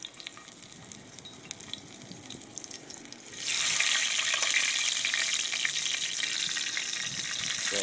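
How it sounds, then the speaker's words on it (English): Beer sausages drop into bubbling oil in a pan, the quiet background giving way to a sudden, loud, steady sizzle that continues to the end. "that oil is bubbling"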